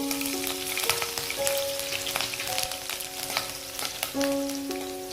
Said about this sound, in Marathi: आता ह्याच्यामध्ये आपण ही हिरवी मिरची तळून घ्यायची आहे